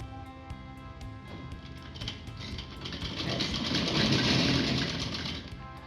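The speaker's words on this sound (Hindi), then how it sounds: "सिलाई लगा दीजिएगा।" Sewing machine stitching printed fabric for a palazzo, a steady mechanical whir that builds and grows louder midway, running alone without talk.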